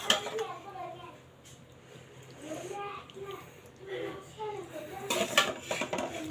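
Hilsa fish curry with potato and onion being served onto a plate, a spoon clinking and scraping against dishware in a few irregular taps, with a voice and other talk heard softly in the background.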